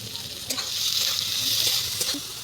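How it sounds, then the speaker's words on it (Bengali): Onions frying in oil, a steady soft sizzle with a few scattered clicks and scrapes of stirring, fairly close and moderate in level. "চলো পেঁয়াজটাকে ভেজে নিই"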